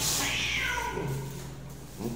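A cat meows near a residential building while being fed, one drawn-out, falling call that fades, then a short second cry at the end.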